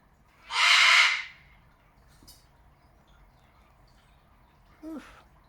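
A pet scarlet macaw lets out one loud, harsh, drawn-out squawk close by, then the room goes quiet with faint rustling before a short, thin squeak near the end.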